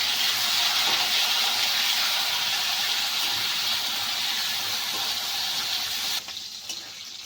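Moringa drumsticks seasoned with salt and turmeric fry in a pan, giving a steady, dense sizzling hiss that holds for several seconds before abruptly dropping lower near the end, with no one speaking.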